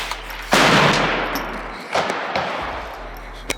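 Loud gunshots from rifles being sighted in at an outdoor shooting range: one sharp blast with a long decaying echo, then two lighter cracks and a small pop, all close and with no talk.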